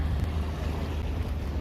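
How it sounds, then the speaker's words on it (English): Boat wake water washing in a harbor corner, a soft, steady low rush of lapping water with faint wind, no voices. "I'm hearing more wake sound up here in our corner."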